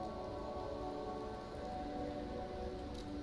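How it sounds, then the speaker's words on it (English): Rain in the video game Lies of P makes a steady, even hiss that runs on alone without a break, with no voices over it. "The rain does be hurting my frames a lot."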